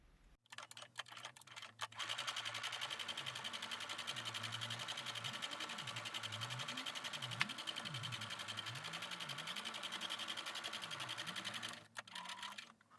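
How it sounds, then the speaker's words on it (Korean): A sewing machine stitches pieces of a handmade hat, running as a fast, steady needle chatter for about ten seconds. It pauses briefly near the start and stops at the end with a few faint clicks of handling. The sound is close and fairly quiet, with no talk. "1번 꼬매고 2번 꼬매고 합치고 해서 바느질 하겠습니다"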